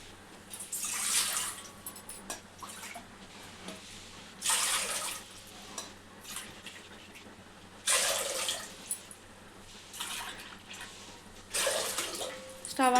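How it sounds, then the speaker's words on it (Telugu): Water pours into a cooking pot for ragi mudda in several separate bursts, splashing loudly, with quiet gaps in between. "నాలుగు కప్పుల బియ్యం నీళ్ళు పోసుకుందాం గిన్నెలా"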